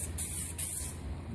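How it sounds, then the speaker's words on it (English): Flattener finish hisses from a spray can in two short, close bursts followed by a longer fading spray. "So if we spray the flattener sheet on it"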